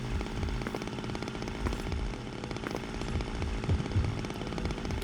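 A chainsaw revs in the video game Zero Time Dilemma, a dense, steady, loud buzzing roar with small surges throughout, heard alone without talk.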